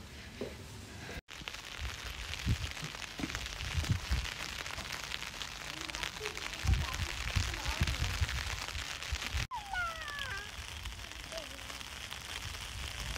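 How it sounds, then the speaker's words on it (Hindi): Heavy rain falls outdoors, a dense continuous patter with scattered louder drops, with short bird chirps briefly audible. "काफ़ी ज़्यादा जो है ना वो बारिश हो रही है"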